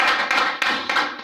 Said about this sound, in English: Give a round of applause now.